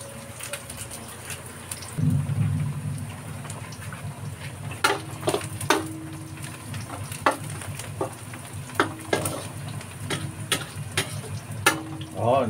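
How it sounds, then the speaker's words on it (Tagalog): Fresh onions sizzle in a pan for a Filipino sauté, a steady frying hiss rising once they hit the oil, punctuated by repeated sharp clicks and scrapes of a utensil stirring against the pan. "Gigisa tayo"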